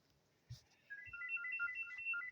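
An electronic ringtone chirps on a telephone that no longer works: a short warbling two-tone melody repeats for about a second and a half, fairly clear and alone after a brief thump, with no speech.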